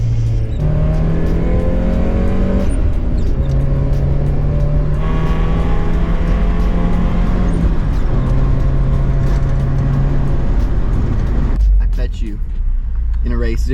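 A car engine during heel-toe driving, with throttle blips while braking, on the way to a large Southern California car show. Steady loud engine drone rises and falls in pitch as it revs and shifts, close up inside the car.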